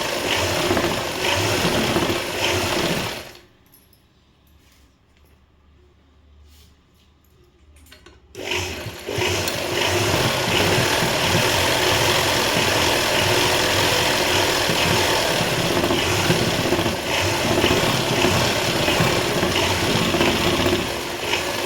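A home sewing machine runs a neat overlock-style edge stitch, a steady close mechanical whirr and clatter that pauses for about five seconds partway through, then resumes and continues without talk.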